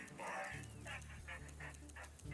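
Attack dogs in the strategy game C&C Rivals bark and yip in a quick run of short repeated calls, set over a steady low game hum and a busy soundtrack.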